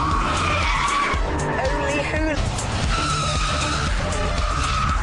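A Vauxhall VXR8 with traction control switched off skids its tyres in a loud, sustained squeal with rising and falling pitch over steady engine roar, while someone talks over it.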